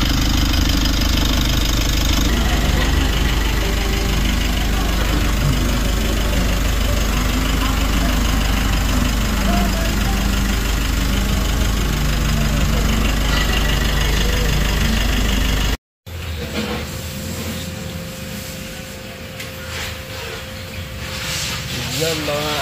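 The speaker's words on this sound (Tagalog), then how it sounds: "Ayun, i-start na ni idol para masubukan natin kung may maglilig pa" A Mitsubishi L300 Euro4 diesel engine runs at a steady rumbling idle in a car service shop after an oil change, loud and close, then the sound cuts briefly and resumes quieter, with voices at times.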